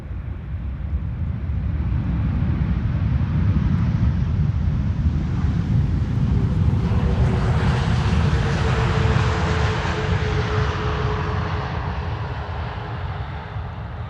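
JetBlue airliner arriving from Boston, a broad, rumbling jet roar that swells and builds as it draws nearer, then slowly fades, heard outdoors with wind buffeting the microphone.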